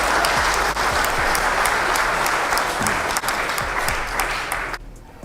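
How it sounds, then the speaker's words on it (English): An audience applauds in a sustained, dense burst of clapping that stays loud and even for several seconds before cutting off abruptly near the end. "Why are you applauding that?"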